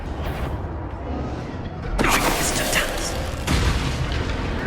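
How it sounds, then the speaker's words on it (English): Heavy weapon booms in the Hogwarts Legacy video game, two loud broadband blasts with rumbling tails over a steady background, with speech mixed in. "Did you hear those weapons?"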